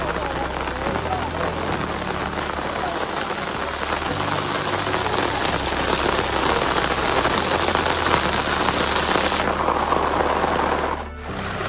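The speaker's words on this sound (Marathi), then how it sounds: "वाराने पाऊस येतो ना" Steady heavy wind-driven rain patters densely on a surface during monsoon rice planting in the Konkan, a constant close hiss with low rumbling underneath, briefly dipping near the end.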